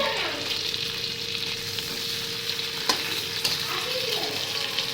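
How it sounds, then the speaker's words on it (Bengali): Khoira fish fry in hot oil with a steady, bright sizzle, and a spatula stirs and scrapes the pan now and then, including two sharp clinks near the end. "চলো খয়রা মাছ ভাজা বন্ধুরা"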